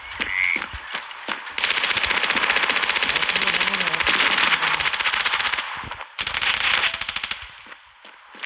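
Automatic gunfire rattles in Standoff 2 gameplay: two long rapid bursts of loud, evenly spaced shots, with a few scattered single shots around them.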